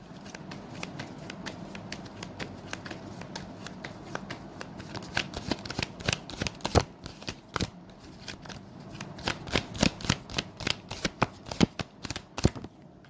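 Tarot cards shuffled by hand during a card reading, a long run of crisp riffling and snapping flicks that grow denser and louder toward the end, close and with no talk.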